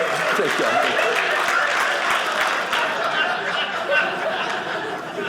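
Comedy club audience at a stand-up special clapping steadily, with scattered laughter and chatter mixed into the applause at moderate loudness.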